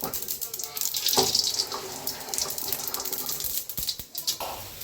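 Mustard seeds sizzling in hot oil: a bright, crackling hiss with scattered sharp pops throughout, close by.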